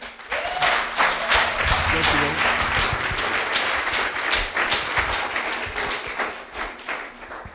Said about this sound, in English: Round of applause for Nazi.